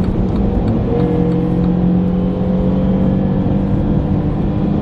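2019 Mini Cooper Clubman ALL4 with a 1.5 engine accelerating onto a highway, a steady loud cabin drone of engine and road noise with a faint rising tone.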